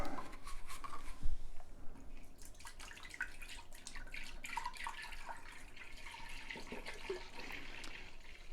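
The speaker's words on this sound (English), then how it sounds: "take your gallon and to pour it into the container" Milk pours steadily from a gallon jug into the inner pot of an Instant Pot for homemade yogurt, a continuous trickling splash lasting several seconds at close range with no talking.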